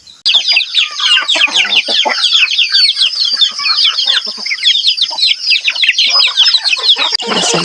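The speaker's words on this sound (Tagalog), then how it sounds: "Sa mga manok na sa bukid." A flock of farm chickens clucks loudly and continuously close by. Their rapid, overlapping cackles form a busy, unbroken chatter for about seven seconds.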